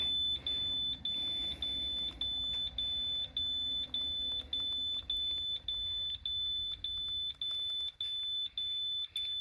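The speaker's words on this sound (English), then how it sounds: "Don't mind the alarm for my air pressure." A high electronic low-air-pressure alarm in a DT466e diesel bus beeps repeatedly at a steady, quick rhythm, persistent and fairly loud over a low rumbling background, in cold weather.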